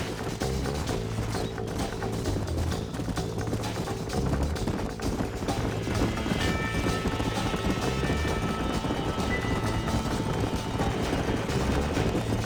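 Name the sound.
horses galloping, hooves in Red Dead Redemption video game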